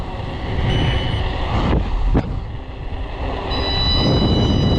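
Two-motor Kamikaze electric scooter riding fast, a steady loud rush of motor whine and wind noise with rolling road rumble throughout, briefly dipping mid-ride before building again.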